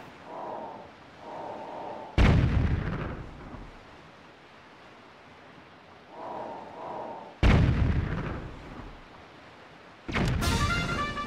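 Bombs and gunfire in the video game Wind Waker: three sharp, loud blasts with rumbling tails land several seconds apart, with quieter tonal game sounds in between.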